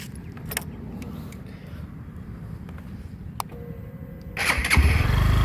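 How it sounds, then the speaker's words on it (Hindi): A Hero Glamour X 2025 motorcycle with ride-by-wire throttle cranks and fires up after a few faint clicks, its engine catching near the end and settling into a loud, close idle. "बाइक चालू हो जाएगी और अपने आप ही रेस लेने लग जाएगी।"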